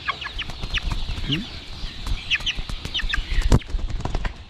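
Several chickens clucking close by, short repeated calls scattered irregularly over a quiet background.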